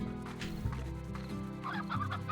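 Hens in the video game Slime Rancher cluck in a short, steady run of close, throaty calls over a soft musical bed.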